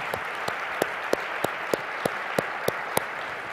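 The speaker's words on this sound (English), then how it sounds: "I think we all owe you a round of applause for what you've done for iNACOL." Applause from the audience at an education symposium keynote, a steady wash of clapping hands with a few sharper claps standing out at regular intervals, heard alone without talk.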